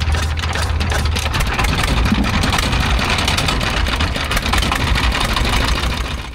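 A river boat engine runs loud and close with a dense, steady low chugging drone throughout as the boat leaves the ghat on a crossing toward Jamalpur.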